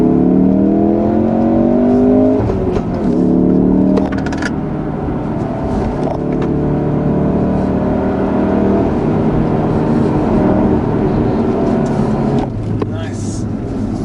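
A Ford Focus RS accelerates hard up a mountain road with hairpins, its engine note climbing steadily through the gears, loud and close from inside the cabin, while someone talks over it.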